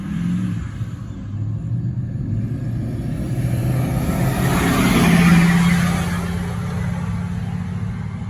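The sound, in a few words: diesel traffic passing by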